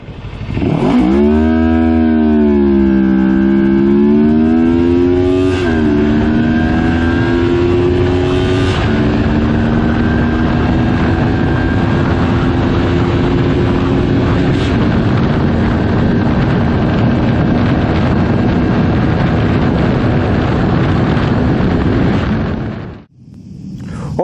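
A CFMOTO GT 650 motorcycle engine revs up from idle and holds a loud, steady drone close by, its pitch rising and settling over about twenty seconds before cutting off abruptly near the end.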